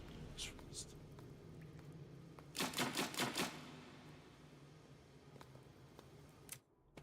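A typewriter in the Resident Evil 1 video game clacks in a quick burst of four or five close key strikes, preceded by a couple of fainter taps, all fairly quiet against a soft background hiss.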